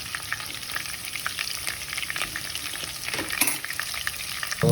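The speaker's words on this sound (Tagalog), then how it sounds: "bawang at sibuyas ating lalagay dyan" Garlic and onions fry in hot oil while being stirred in a pan, a constant dense sizzle broken by spoon scrapes and clatters, close and without speech.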